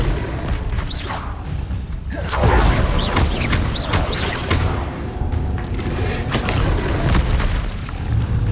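Spell-casting effects from the video game Hogwarts Legacy: deep booming impacts, whooshes and crashing bursts layered over a constant rumbling backdrop, loud and dense throughout.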